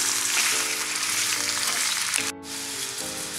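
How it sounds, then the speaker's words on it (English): Spinach frying and being tossed in a pan while carrots and fish cook nearby, giving a steady, close sizzle with a few stirring scrapes and a brief dip partway through. "Now we'll add the spinach. Toss that around."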